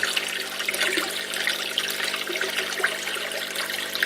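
Water pouring from the outflow of a Fluval external canister filter into a 220-litre fish tank, a steady close rushing and splashing flow with no pauses and no voices.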